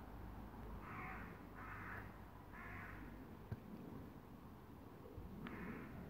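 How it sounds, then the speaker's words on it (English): A magpie gives four harsh, chattering bursts of calls at a moderate distance over a steady low rumble, in the ruins of an old railway goods yard. "The magpie won't shut up."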